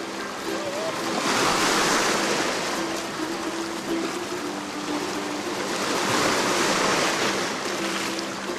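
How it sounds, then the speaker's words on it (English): Surf rolls in steadily on a black sand beach in Hawaii, the waves swelling into loud broad washes around two and seven seconds, with wind noise and a faint voice underneath. "we finally reached a very peculiar black sand beach"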